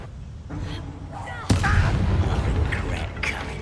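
A Bombarda spell explosion in Hogwarts Legacy lands with a sharp blast midway, set against rumbling combat noise and further muffled impacts, with a brief voice in the scene.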